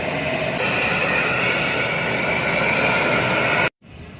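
A steady, loud roar of a Batik Air airliner's jet engine after landing at Tarakan airport, broadband and constant, then cutting off abruptly near the end.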